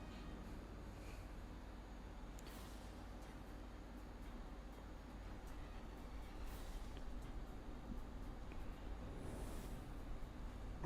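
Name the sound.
cars passing outside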